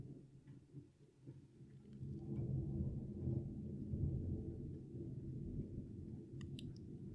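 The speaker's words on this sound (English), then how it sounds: "It's raining. It's thundering and lightning over here" Low, rolling thunder during a rainstorm, a faint distant rumble that swells after a couple of seconds and lingers steadily, with a few small clicks on top.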